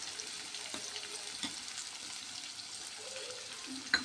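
Onions, garlic and curry leaves with salt sauté in a pan for a brinjal gravy, a soft, continuous low sizzle with a faint clink near the end and no speech.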